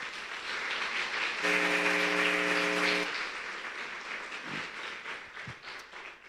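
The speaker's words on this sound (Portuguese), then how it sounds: "Você pode aplaudir o Senhor por isso?" A church congregation claps in a moderate, fairly distant patter that swells then gradually thins, with a steady humming tone sounding over it for a couple of seconds.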